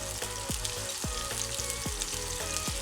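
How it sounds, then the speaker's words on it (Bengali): Garlic cloves and onions fry in a pan, producing a continuous close sizzle. Rhythmic spatula strokes scrape across the pan roughly every half second. "এবার সব কিছু খুব ভালো করে ভেজে নিচ্ছি"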